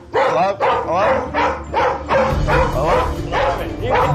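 A Border Collie barks intensely and continuously, loud and close, one bark right after another with little pause.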